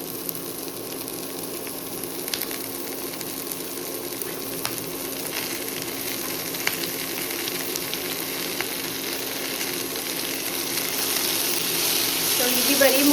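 Tomatoes tipped into golden-brown onions frying in a pan for Goan-style chole masala, giving a continuous sizzle that swells louder toward the end, with faint speech in the background.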